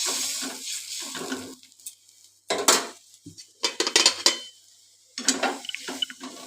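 A metal lid set onto a cooking pan of fish curry, with several sharp clanks and clatters of metal cookware in brief bursts separated by quiet gaps, close by, with no talk.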